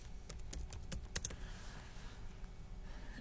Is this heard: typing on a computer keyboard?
yes